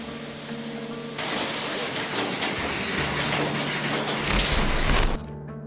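Hail pounds a car during a violent storm, caught from a dashcam: a dense, loud, hissing clatter that starts abruptly, swells to a harsher peak near the end, then cuts off.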